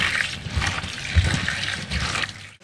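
Running water splashes over chicken pieces in a strainer as they are washed, a steady close gushing flow with bursts of splashing throughout.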